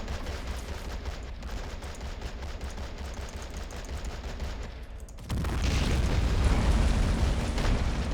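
A tank firing high-explosive shells in a World War II battle game, with dense, continuous rumbling gunfire and blasts, and a heavier, louder roar of explosions breaking in about five seconds in.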